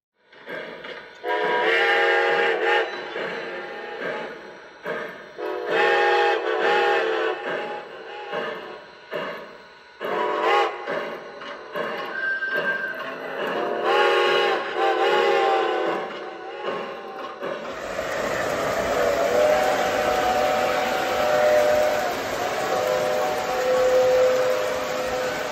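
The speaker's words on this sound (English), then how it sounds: "The whistle on this engine was recorded using the real locomotive" Repeated steam locomotive whistle blasts, loud and close, in a series of short and long hoots, followed by a sustained hissing rush of steam.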